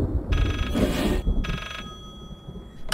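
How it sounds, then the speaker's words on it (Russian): A mobile phone rings in bursts of electronic trilling tones inside an eerie house in the horror game Layers of Fear, sounding somewhere nearby against a low ambient background. "Мобильник звонит где-то."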